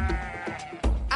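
A sheep bleating in short repeated calls, close and fairly loud, with a brief louder bleat near the end and no voices.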